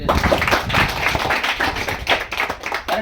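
Close hand clapping keeps time to a children's cleanliness song, a steady run of sharp, fairly loud claps with no talking.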